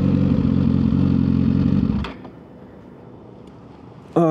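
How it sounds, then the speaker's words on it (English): A Suzuki GSX-R1000R sportbike idling close by with a deep, steady engine rumble that cuts out abruptly, leaving near silence broken by a faint click and a final short clatter. "Let's just stay clutched in and turn the bike off."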